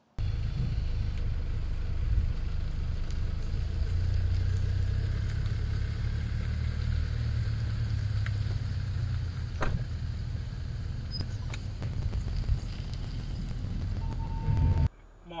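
Car towing a caravan on a trip through France, engine running steadily with low rumble as it drives to pull out, continuous and fairly close, with brief speech in the background.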